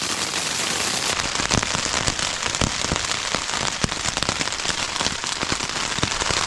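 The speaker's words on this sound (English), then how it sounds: "it's pouring rain out outside. You just hear it pelting like crazy on the outside of the tent." Heavy rain pelts a tent at a campsite in Grayson Highlands State Park, a dense, continuous patter of close, sharp drops with no voices.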